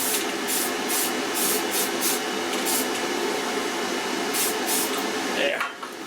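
An ArcCaptain 205MP welder lays weld passes to build up the inside of a joint, giving a steady loud sizzling crackle with rhythmic bursts throughout, cutting off near the end.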